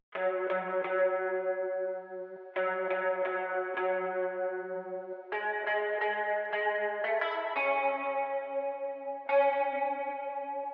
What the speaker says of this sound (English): One of my favorite sounds to recreate was this modulated guitar that joins in the second verse.